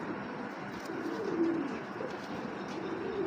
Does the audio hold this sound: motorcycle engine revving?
no